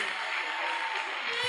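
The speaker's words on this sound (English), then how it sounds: "Keep clapping for him." A crowd applauds at an awards ceremony, dense continuous clapping filling the room at steady loudness throughout.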